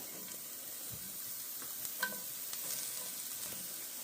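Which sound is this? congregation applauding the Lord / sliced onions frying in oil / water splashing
sliced onions frying in oil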